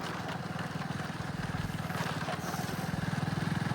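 Motorcycle engine running steadily while riding along a village road, a continuous low throbbing drone with faint rumble and wind, moderately close and fairly even in level.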